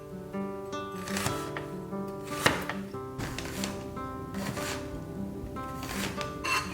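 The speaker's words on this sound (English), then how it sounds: "Grate or hand chop the fresh cabbage" Fresh cabbage being hand-chopped with a knife for pierogi filling, a series of quick, close chopping taps in uneven bursts over light background music.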